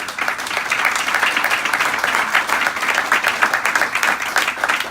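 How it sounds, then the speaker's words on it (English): A crowd applauds loudly and steadily, many hands clapping together in a dense, continuous wash. "Everyone give a round of applause for Karen Webb and Macias."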